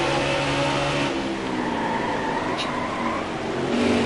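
Loud race cars roar continuously out of a corner on a short track in the NASCAR Heat 4 video game, engines droning in a dense pack with a faint shift in pitch as traffic passes.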